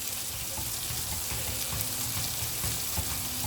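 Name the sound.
butter whisked into simmering red wine sauce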